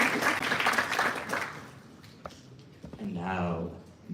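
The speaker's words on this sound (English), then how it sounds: "One more round of applause for our second place winners." Audience applause for second-place winners at a spring student projects presentation night, dense and loud at first, then thinning out and fading before a voice speaks near the end.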